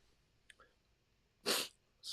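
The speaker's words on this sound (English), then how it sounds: "I got to sneeze." A single sharp sneeze bursts out loudly near the microphone, preceded by a couple of faint breathy sounds and followed by another brief burst.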